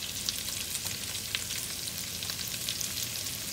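Pork ribs fry in a pan with a constant, crackling sizzle, close and even, with small spits and pops scattered through it and no voices.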